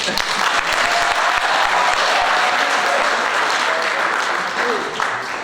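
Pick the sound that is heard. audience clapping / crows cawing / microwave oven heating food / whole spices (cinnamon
audience clapping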